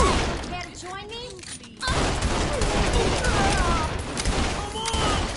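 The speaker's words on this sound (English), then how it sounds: "They're shooting!" Gunfire in Saints Row: The Third, repeated loud bursts and shots crackling over a busy game scene, with a brief lull before the shooting resumes densely; voices are heard amid the action.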